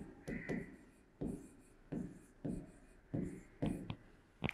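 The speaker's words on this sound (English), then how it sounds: "So write there minuend." Pen or pencil writing a word on paper during a math lesson, giving a series of short scratchy strokes in bursts with brief pauses between them, close and fairly quiet.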